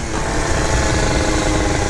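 Tuned scooter engine running steadily, a buzzy, rough drone that holds constant and close without any talking.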